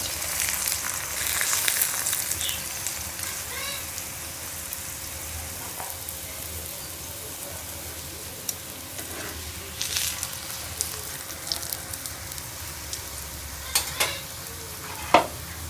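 A sugar paratha sizzles on a pan as its other side cooks, a continuous soft crackle with scraping and stirring noises and a few sharp taps toward the end.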